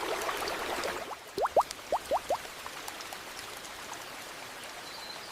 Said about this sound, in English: Gentle rain soaked the land for days